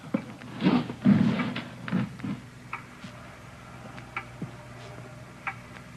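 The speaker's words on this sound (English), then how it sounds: "It's a loud clock, ain't it?" A clock ticks with sharp, regular clicks, fairly loud in a quiet room, after a few heavier knocking or shuffling sounds at the start.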